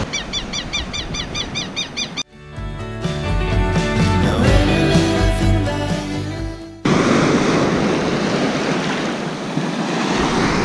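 Surf washing onto the beach at Mucugê, Arraial d'Ajuda, Brazil, a steady broadband roar that is loud and close. Bird chirps come early on, and a tonal, music-like passage briefly breaks in partway through.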